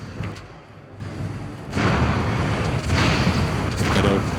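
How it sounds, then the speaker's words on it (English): Explosions from mage spells in the fantasy role-playing game Dragon Age: Origins, a run of heavy booms and thuds rolling into a loud, sustained roar of blasts during a hectic battle. "I don't freaking die by the explosions"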